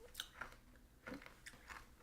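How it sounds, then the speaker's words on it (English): Ice crunching for ASMR, with several quiet, close crisp bites and crunches at an uneven rhythm and no talk. "ASMR, ice crunching is"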